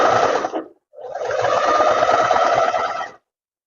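Close, loud sewing machine stitching a square-neck tailored vest, one short run, a brief pause, then a longer steady burst of fast whirring stitches that stops abruptly, with no voices.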